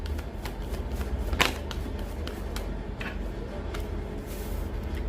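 Oracle cards being shuffled by hand, a quick series of soft riffling slaps and flicks close up, repeating irregularly over a low steady background hum.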